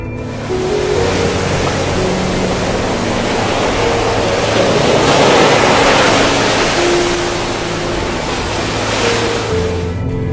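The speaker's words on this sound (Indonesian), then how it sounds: "Gelombang tinggi akibat guncangan dahsyat." High ocean waves churned up after a magnitude 7 earthquake off Costa Rica roar as a loud, continuous broadband wash of surf, steady and close throughout with no voices.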